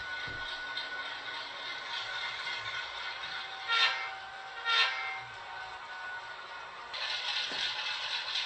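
An HO scale Atlas Dash 8 model locomotive runs with its motor whining steadily close by, a thin continuous hum with two brief louder surges partway through and another rise near the end.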